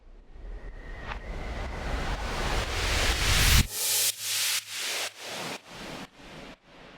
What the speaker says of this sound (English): And together, the riser and faller sounds like this.